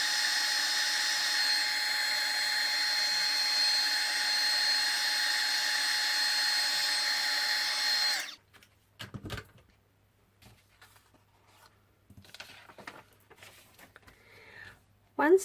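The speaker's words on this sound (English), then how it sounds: "I will speed the drying up a little bit so you don't have to sit through that. So this is just drying off the ink now." A heat tool blowing hot air to dry ink on a stamped craft card makes a steady, loud whirring drone for about eight seconds, then cuts off abruptly, leaving quiet handling noises.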